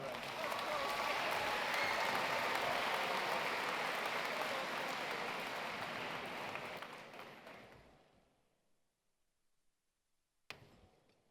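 Dense applause from a large audience at the 2018 Science Olympiad National Tournament awards ceremony, steady clapping that dies away to near silence, followed by one brief knock.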